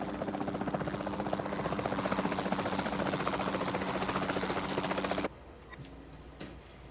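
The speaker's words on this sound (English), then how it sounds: "Then the sensible thing is to take a capture team helicopter." Capture team helicopter in the video game Jurassic World Evolution 2 gives a loud, steady rotor chop and engine buzz for about five seconds, then cuts off abruptly to a quiet background with faint blips.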